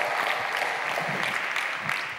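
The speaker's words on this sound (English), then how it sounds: "So give yourself a round of applause, right?" Audience applause at a blockchain conference, a dense steady clapping from a crowd, close and continuous for a couple of seconds.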